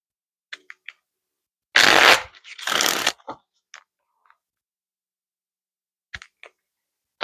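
Oracle deck from the Isis Oracle being shuffled, two quick close riffling bursts surrounded by light card taps and clicks in an otherwise quiet room.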